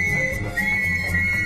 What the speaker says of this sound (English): it was he that blew the whistle and raised the alarm.